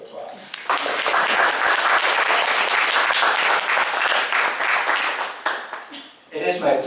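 Loud, full audience applause at a university symposium honoring the organizer, a dense burst of many clapping hands that rises quickly, holds steady for several seconds, then fades as a voice starts speaking.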